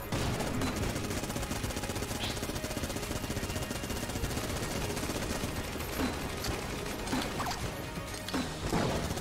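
Machine gun fire in the video game Enter the Gungeon, a dense, continuous stream of rapid gunshots lasting the whole stretch, with occasional louder bursts and impacts layered over the rattle.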